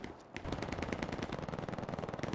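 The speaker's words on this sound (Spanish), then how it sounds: "he escuchado que alguien me ha disparado aquí" Rapid automatic gunfire in the World War II shooter game Hell Let Loose, a dense burst of evenly spaced shots that keeps going without pause, loud and close, with no talk over it.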